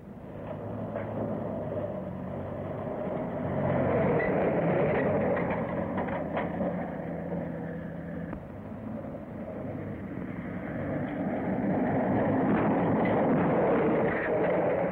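A train pulls into a station, a long rumbling roll of rail noise with rising and falling engine drone and a few clanks, fairly loud and steady for several seconds, with no one speaking.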